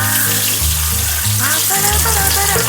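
Ingredients for egg curry frying in a pan make a continuous hissing sizzle, while a voice talks over it and louder speech sounds come and go through the short stretch.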